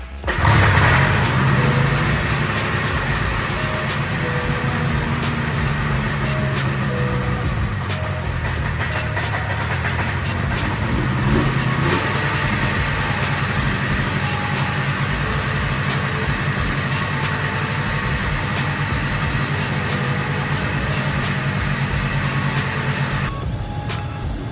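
A small vintage Arctic Cat snowmobile engine runs steadily and loudly up close, idling with a buzzy, rattling drone and slight shifts in pitch throughout.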